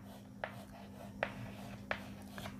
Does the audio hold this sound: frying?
no